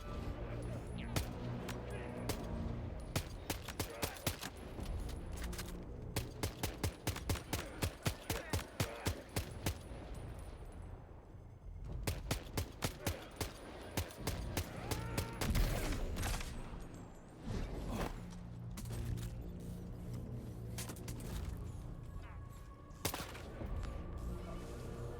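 Rifle shots in Death Stranding 2: dense volleys of sharp, rapid cracks in bursts with brief pauses between them, loud and close, running throughout.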